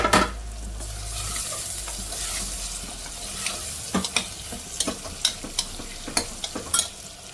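Mixed vegetables, including capsicum, frying in a pan for a curry, giving a steady soft sizzle with a run of sharp, irregular stirring scrapes and clinks in the second half, close and fairly quiet.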